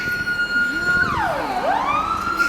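A fire engine's siren wails loudly and sweeps down then back up in pitch as the truck drives past near a fire at a military base, with traffic rumble underneath.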